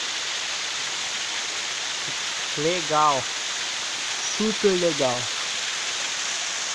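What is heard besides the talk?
waterfall, about 50 metres drop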